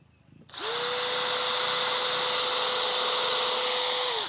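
A Dewalt DCD805N cordless brushless 20V impact drill runs at its lowest speed setting, spinning up abruptly into a steady, loud, close motor whine that holds evenly for about four seconds before easing off, with no talk.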